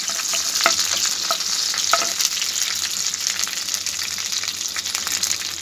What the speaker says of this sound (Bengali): এলাচি ও লং ও গোলমরিচ, এগুলো দিয়ে আমি প্রথমে এগুলোকে সামান্য একটু হালকা ভেজে নেব